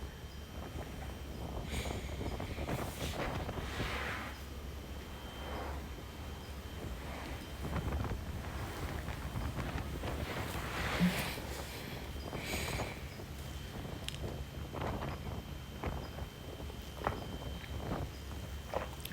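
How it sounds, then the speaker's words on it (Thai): Strong wind buffets the microphone on the coast of Maui, Hawaii, a steady broadband roar with heavier gusts throughout, and no talk. "ดูเหมือนจะไม่มีลมได้ไหมแต่ลมมันแรงมาก"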